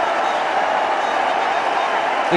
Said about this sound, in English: Look at the crowd going mad